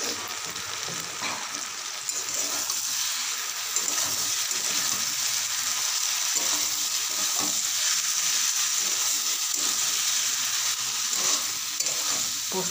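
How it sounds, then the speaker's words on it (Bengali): Potatoes and poppy seed paste sizzle and crackle in a hot pan while being stirred dry for aloo posto, a steady close frying hiss with repeated scraping stir strokes, no talk. "পোস্তটা দিয়ে ভালো করে কষিয়ে নেব।"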